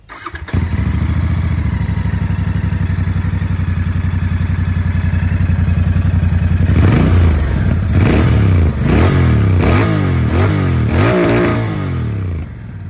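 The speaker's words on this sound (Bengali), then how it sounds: "আর আপনাদেরকে একবার আমি এখানে এক্সস্ট সাউন্ডটাও শুনিয়ে দিই" A 2024 Royal Enfield Interceptor Bear 650 twin idles with a deep, even exhaust thrum, then is revved repeatedly in sharp rising and falling bursts before settling, loud and close with no voices.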